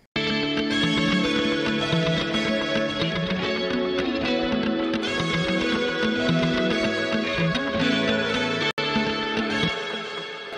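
A crunchy lead electric guitar plays through Super VHS chorus, repeater and reverb effects inside a pop song mix. The sound is dense and sustained, with a brief dropout near the end before it fades and cuts off.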